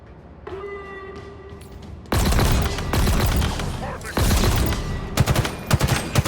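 Gunfire from the Ravager weapon in the Halo Infinite video game, a dense loud barrage of booming shots and thumps following a rising whine, with a burst of rapid blasts near the end.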